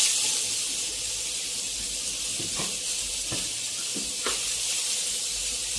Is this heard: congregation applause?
no